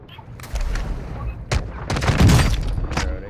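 Video game gunfire, likely Call of Duty, rattles in broadband bursts around 0.5, 1.5, 1.9–2.6 and 3.0 seconds. The shots are loud and close, with scattered distant fire between them and low rumble underneath.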